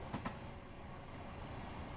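Steady low rumbling of a train running through a tunnel in Train Simulator 2021 on a London to Portsmouth run, a dense continuous drone with two brief knocks near the start and no voices.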